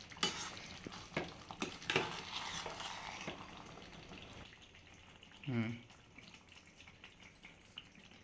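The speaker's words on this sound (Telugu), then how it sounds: "ఐదు నిమిషాల తర్వాత మూత తీసి కర్రీని బాగా కలుపుకోవాలి" Andhra-style stuffed brinjal curry is stirred in a pan with faint scraping and clinking strokes in a loose rhythm over a low sizzle, and a voice speaks briefly midway.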